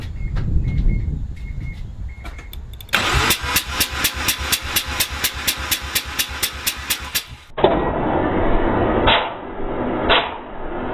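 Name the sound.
Mazda RX-7 FD3S rotary engine cranking during compression test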